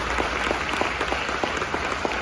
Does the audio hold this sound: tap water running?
no